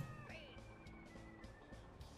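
A cat meows in the game Bad Rats, a quiet rising-and-falling yowl over a low, muffled game background, with no talk.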